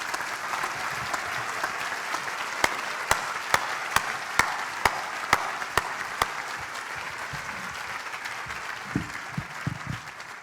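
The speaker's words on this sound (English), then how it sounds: "give her a big round of applause for all she's done" An audience at a private school's closing ceremony gives sustained applause, a dense wash of clapping with a run of sharp, evenly spaced cracks partway through and faint voices near the end.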